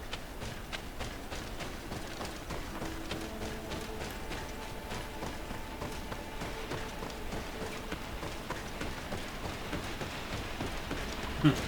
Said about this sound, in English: the rain is super loud right now